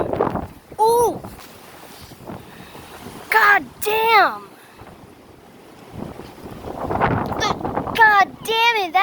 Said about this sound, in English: Those are some big wind gusts.